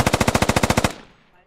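A sustained machine gun burst in a military video game, about a dozen rapid evenly spaced shots, loud and close, then the fire stops and the echo dies away.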